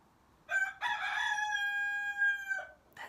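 A rooster crows once nearby, a loud drawn-out cock-a-doodle-doo lasting about two seconds after a short rising start, with quiet background before and after.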